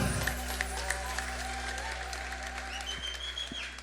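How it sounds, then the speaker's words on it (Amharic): A congregation at a worship service applauds faintly and steadily, a soft wash of clapping under sustained musical tones and a low hum. "ጭብጨባ ያለው"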